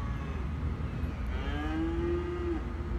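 Cows moo in the Cities: Skylines video game, one drawn-out, rising low moo carrying over a steady background bed of traffic and ambient city noise, with no talking.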